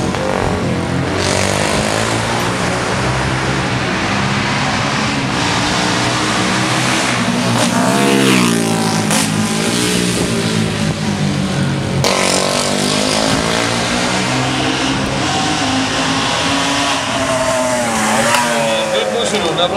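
A loud classic Moto Morini racing motorcycle engine roars continuously at a classic motorcycle race, revving up and down as it circles, with pitch sweeps suggesting passes close by.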